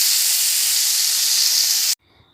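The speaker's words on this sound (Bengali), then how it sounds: "উচ্ছেটা একটু ভালো করে ভেজে নেব।" Sliced bitter gourd fries in a pan with a loud, steady, steamy sizzle for about two seconds, then cuts off abruptly to near silence.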